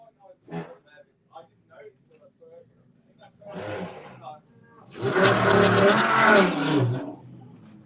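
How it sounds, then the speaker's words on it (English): A V10 Audi R8 and a V8 Audi M3 drag race, with a short distant rev and a later burst before a loud, full engine roar surges past, between stretches of talk. "the V10 Audi R8 taking on the V8 Audi M3"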